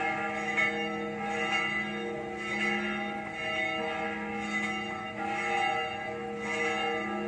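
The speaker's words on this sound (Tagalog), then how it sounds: "So narinig nyo yung kampana" Church bells of Jaro Church in Iloilo, Philippines ring continuously with a sustained, droning tone, the strikes blending into a steady wash of ringing at moderate distance.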